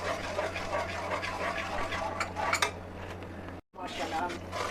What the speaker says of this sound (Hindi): ये देखिए थोड़ा सा इसमें पानी ऐड करके मैं अच्छी से साफ़ करूँगी